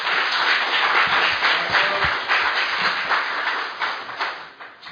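An audience at a National Assembly debate forum applauds to welcome a lawmaker to the podium, a dense, even patter of clapping from a room full of people that tapers off toward the end.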